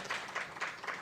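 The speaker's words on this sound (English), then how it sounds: "Once again, a round of applause to Professor Mueller." Steady applause from a conference audience at a technology forum, a continuous patter of clapping at moderate volume with no voices on top.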